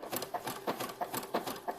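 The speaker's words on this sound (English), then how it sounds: "So I'm only sewing the very bottom of the V on my sewing machine" A home sewing machine stitches just the bottom point of a V neckline on a gown, giving a quick run of rhythmic mechanical ticks and whirs, close and fairly quiet, with no one talking.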